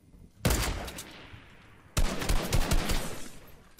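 Two sharp, loud sniper rifle shots in the Fortnite video game, each a sudden blast with a lingering tail, spaced about one and a half seconds apart.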